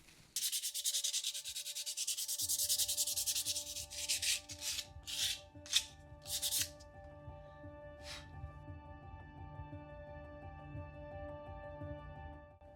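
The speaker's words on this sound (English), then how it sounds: "I'm just gonna sand this to start off with" A plastic light switch cover being sanded before clay sculpting. Steady rasping strokes come first, then several short separate rubs, close up over a constant electrical hum.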